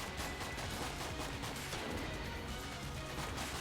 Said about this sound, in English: I'm gonna use up this gun in this room alone